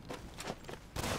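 Players land on and walk across a roof in Rust, producing a few muffled, evenly spaced footstep thuds and then a louder, heavier impact near the end.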